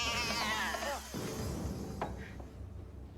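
A cat meows loudly with a long, wavering cry, followed by quieter noises and a short, faint mew near the end.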